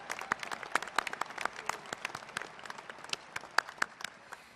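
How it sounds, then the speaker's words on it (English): A small audience at a US Air Force Academy commencement applauds, scattered claps blending into a moderate, steady patter that fades slightly toward the end. "let's give applause for Rebecca."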